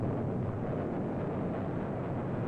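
A heavy ore blast at an open-pit copper mine lets out a sustained, dense rumbling roar of breaking rock that holds loud and steady for a couple of seconds before cutting off.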